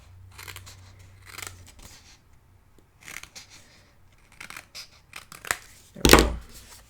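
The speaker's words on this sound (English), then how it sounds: "use your scissors" Scissors snip through paper while a winter-themed mini album is assembled, in several separate bursts of crisp cutting spread across the stretch with a louder, closer cut near the end, and no voices.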